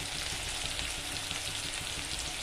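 Turmeric sizzles in hot oil in a pan, a steady bright hiss of frying, close and even throughout with no talking.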